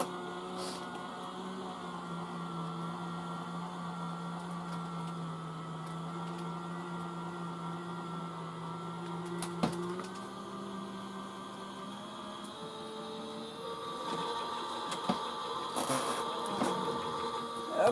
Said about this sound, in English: The plates are going through.